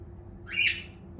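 Two young cockatiels with almost fully grown wings give a single clear chirp-squawk near the middle of a short stretch of low background noise, close and fairly loud.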